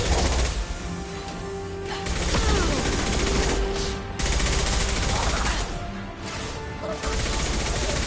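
Sustained, loud gunfire and crashing impacts fill a battle in Mass Effect 2, with dense overlapping shots and brief dips in intensity.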